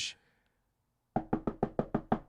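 Knuckles rap a table seven times in a quick, even run, loud and close, following a brief bit of speech.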